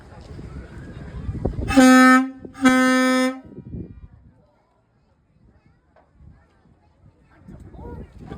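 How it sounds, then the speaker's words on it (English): A big truck's air horn blasts twice, long loud tones with a short gap between, at a trucks day event, with talk before and after the blasts. "that's the quietest air horn we have"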